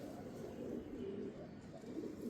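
Ghungroo pigeons coo in a steady, low, continuous burble close by, overlapping calls rolling on without pause.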